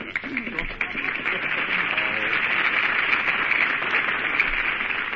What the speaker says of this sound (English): All right, folks, you made your applause.